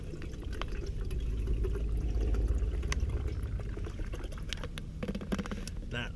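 Water poured from a container into a cooking pot at a lakeside shelter, a steady continuous splashing pour lasting several seconds, close and moderately loud, with outdoor background noise.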